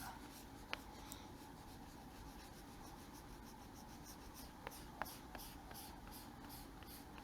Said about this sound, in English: So we're going to go ahead and erase our pencil off at this point